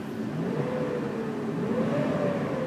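A 2002 Chevrolet Silverado 2500 4x4 engine revving under throttle after running hot for an hour, its pitch rising and falling smoothly in a steady, close-up drone.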